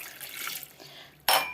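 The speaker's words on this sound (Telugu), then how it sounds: "ఒక గ్లాసు నీళ్ళు పోసుకుని" A glass of water is poured into a cooking pot while making a Telugu boti curry at home, with a soft trickle first and then a brief, louder splash near the end.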